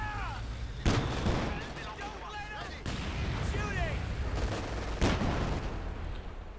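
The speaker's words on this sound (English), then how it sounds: "Might try and get off a shot there with its 50mm gun." In a Company of Heroes 2 battle, a Puma armored car's 50mm gun sounds off amid loud booms and scattered gunfire, with several sharp blasts standing out over a busy combat din and a voice talking throughout.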